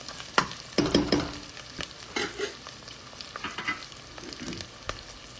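Ingredients for vegetable biryani fry in oil with a steady sizzle, punctuated by irregular, sharp knocks and scrapes of a ladle against the pan, close and with no talking.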